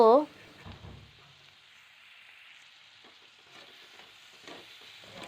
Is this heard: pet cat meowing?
no